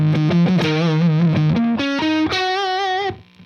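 Electric guitar played through a HipKitty Chameleon effects pedal, a run of distorted, buzzy notes with a warbling, messed-up tone, loud and continuous before the last chord cuts off.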